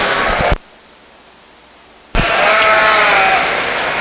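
Sheep bleat at a livestock show, short loud calls close by over a hissy, noisy background, broken by a stretch of near silence before the din of the barn returns.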